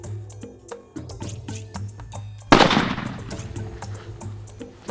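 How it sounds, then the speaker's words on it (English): During a kudu hunt a single rifle shot cracks loud and near, its sharp blast followed by a rolling echo, set against quieter scattered clicks and faint background noise. "Okay, reload, shoot him again."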